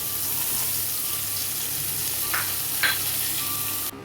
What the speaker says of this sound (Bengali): কাটা পেঁয়াজগুলো ভেজে নিলাম